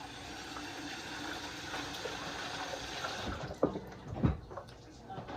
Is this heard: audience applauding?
no